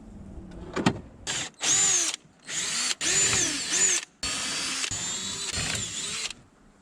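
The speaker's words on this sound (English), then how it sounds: "go ahead and drill some holes" A power drill whirs in several short bursts, revving up and down between brief pauses, close by and sharp, as holes are bored in wooden drawer fronts.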